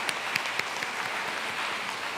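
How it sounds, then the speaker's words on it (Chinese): A church congregation claps during a Sunday worship service to welcome students, producing a steady, dense wash of applause that fills the whole moment without pause. "来，搁再一遍，咱用拍手欢迎伊，"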